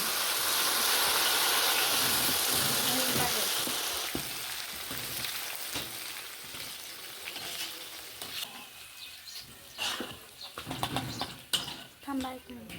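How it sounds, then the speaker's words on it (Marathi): Finely chopped coriander deep fried in oil for boondi chivda, a loud bubbling hiss at first that gradually settles into a quieter sizzle, with scattered clinks of a utensil near the end. "आता कोथिंबीर पण बारीक चिरून घेऊन त्याला पण तळणार आहेत"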